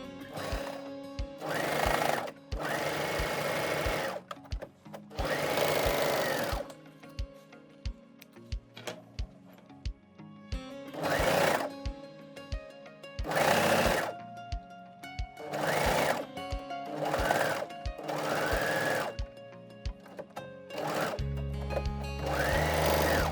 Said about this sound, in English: Sew at 7 millimeters or 1/4 inch using a zigzag stitch, stretch stitch, or your overlocker.